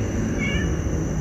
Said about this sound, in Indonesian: Meong. Kok ada kerupuk sih? Woi. Apa sih? Kucing.